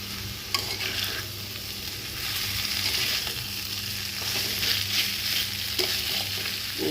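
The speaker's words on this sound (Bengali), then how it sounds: "চিংড়ি দিয়ে চিংড়ি একটু ভাজা ভাজা মতো" Shrimp fry in a pan with salt for a Bengali snake gourd stir-fry, giving a steady close sizzle with occasional stirring scrapes and clicks, no voices.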